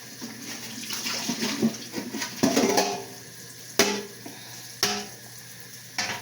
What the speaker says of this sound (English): I'm gonna wash my hands a minute.